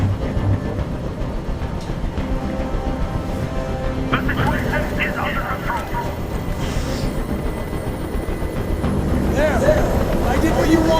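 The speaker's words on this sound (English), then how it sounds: "I can't stand that noise anymore. Tell that helicopter to get out of here." A helicopter hovers overhead in the video game Detroit: Become Human, its loud, steady rotor and engine roar filling the scene and growing heavier toward the end.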